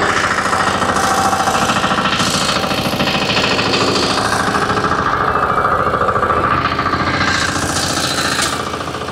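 A tractor engine labours loudly and steadily as it climbs a slope, a dense rumbling drone with knocking vibration that runs without pause throughout, with no voices.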